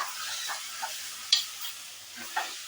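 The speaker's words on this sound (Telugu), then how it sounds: "మటన్ కూడా వేసి కొంచెం ఒక 10 నిమిషాలు వాటర్ ఏం పోయకుండా ఫ్రై చేసుకోవాలి." Mutton sizzles and fries in a pan without added water, a steady hiss running throughout with a few soft stirring scrapes and clicks close by.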